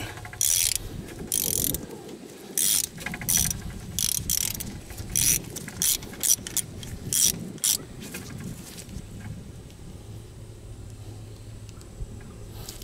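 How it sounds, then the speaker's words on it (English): Small 5 mm bolt being hand tightened on a RAM 1500: close, crisp ratcheting clicks come in quick repeated bursts, then trail off into quiet. "I'm just gonna hand tighten this little five millimeter bolt"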